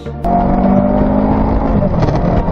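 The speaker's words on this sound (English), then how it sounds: "I love the sound of this bike." A motorcycle fitted with an Akrapovic exhaust revs hard and holds a loud, raspy exhaust roar close by after a sharp start.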